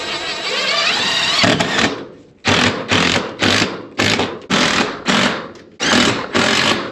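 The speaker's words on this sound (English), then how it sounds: "I'm drilling through 2, 3, sometimes as many as 4 sheets of metal." A loud, high-pitched drill grinds continuously through two to four stacked sheets of metal, then bites in a series of short bursts, about six in a row, each cutting off abruptly.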